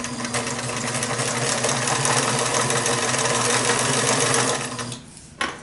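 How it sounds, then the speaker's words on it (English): A sewing machine stitches steadily along the edge of a fabric panel tote bag about an eighth of an inch in, humming in a continuous close whir for several seconds before abruptly stopping. "sew right up next to the edge, about 1/8 of an inch away"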